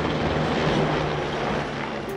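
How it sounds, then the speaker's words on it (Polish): Military helicopters passing overhead during an armed forces day parade, a loud continuous rotor and engine drone that holds steady for about two seconds, with no talk. "Pokaz zakończył przelot helikopterów wojskowych."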